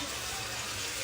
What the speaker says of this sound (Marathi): आम्ही याच्यामध्ये पाणी ऍड केलेलं आहे।